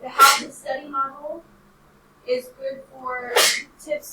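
A sharp, close sneeze bursts out in a high school algebra classroom, and a voice then carries on talking.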